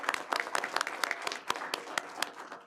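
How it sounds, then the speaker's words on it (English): Audience applause at a school board of education special meeting, honoring students, staff and parents: a short burst of mixed, moderately loud clapping from a room of people, with no voices over it. "So if we can give a pre-applause to all of our students, staff, and parents that are here for our students."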